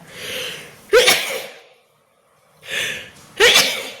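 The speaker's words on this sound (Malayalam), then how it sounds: "ഒക്കെ നന്നായിട്ട് തുമ്മുന്നുണ്ട് കേട്ടോ" Two sharp sneezes, each preceded by a rising breathy intake, separated by a short silence, loud and close.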